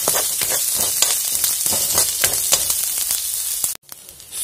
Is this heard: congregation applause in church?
no